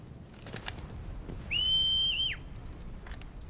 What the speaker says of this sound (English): No one heard the whistle?